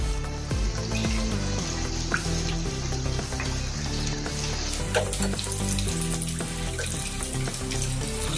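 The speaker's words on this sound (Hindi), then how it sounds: "अभी जो हमने बैटर बनाया वो इसमें डाल देंगे।" Mung and urad dal batter sizzling and frying in hot oil, a continuous dense crackle at close range with some watery hiss, no talk.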